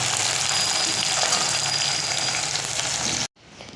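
Fish sizzles loudly in hot oil in a pan, a dense, close, continuous frying crackle that cuts off abruptly near the end, leaving a quieter hiss.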